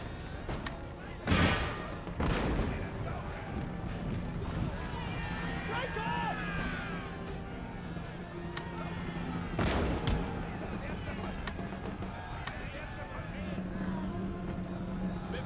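Artillery guns fire in Empire: Total War, with heavy booms and thuds spread across a noisy battlefield, under steady speech and game sounds.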